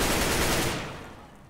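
Rapid automatic gunfire in Counter-Strike: Global Offensive, shot through a wall, comes as a loud, close burst that cuts off and fades after about a second.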